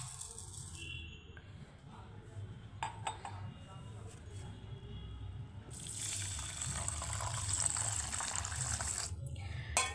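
Water poured over one cup of rice in a kitchen to soak it for Bangladeshi firni, a close hissing rush from a tap filling the bowl with faint clinks, following a stretch of talk.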